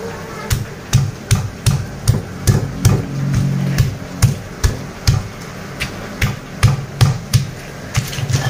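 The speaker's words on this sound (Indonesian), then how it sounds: "bawangnya aku ulek kasar aja" Shallots pounded coarsely with a mortar and pestle while cooking, a steady series of dull, thudding strikes about one per second with a clear, close knock on each blow.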